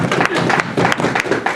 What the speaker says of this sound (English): So let's give all of our scouts a round of applause for that.